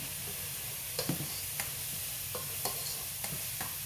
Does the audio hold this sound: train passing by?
no